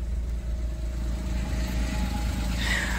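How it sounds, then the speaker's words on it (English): Engine of a 1997 right-hand-drive Suzuki Carry 4x4 mini truck idling, a quiet, steady low rumble that stays even and close throughout with no other sounds over it. "you can tell that the truck is running. So very little noise to it."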